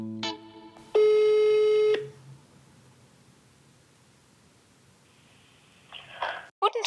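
A phone call to a psychotherapy practice being placed: a short run of dialing beeps, then a loud, steady ring tone lasting about a second, a quiet pause, and more electronic tones near the end.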